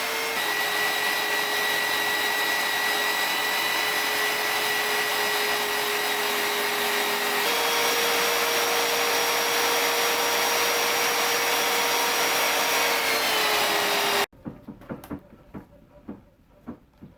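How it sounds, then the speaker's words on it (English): A belt sander fitted with a brand new belt smooths a piece of wood with a loud, steady, close whine and roar for about fourteen seconds. It cuts off abruptly, and a few quieter knocks and handling sounds follow. "into the belt sander with a brand new belt on it"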